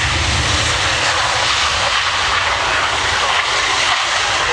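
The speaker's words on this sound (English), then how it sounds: "as he is touching down, putting power on" Loud, steady roar of KC-135 or C-17 jet transport engines close by as power is applied on touchdown, a continuous rushing drone with deep rumble, no voices.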